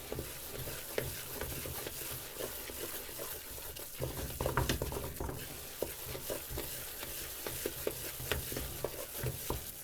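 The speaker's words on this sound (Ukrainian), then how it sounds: "Вимішувати, поки від стінок почне відставати." Thick, wet stirring and scraping of cheese curd in a pot with a wooden spatula, a steady sizzle underneath, continuous and close, with occasional knocks of the spatula.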